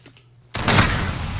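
A single loud gunshot or burst of fire in Modern Warfare erupts suddenly after a quiet moment and rings out with a sustained crackling tail.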